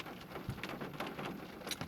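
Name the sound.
rain falling outside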